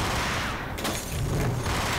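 Dense bursts of pistol gunfire from Beretta handguns in the Max Payne video game, loud overlapping shots and booms crowding one another in a rapid, chaotic fusillade with no talking.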